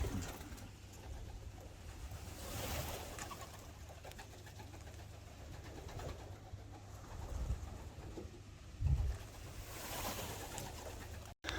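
Young pigeons flying out around a loft, with soft cooing and bird calls over a steady low outdoor rumble, wingbeats and movement blending in faintly throughout.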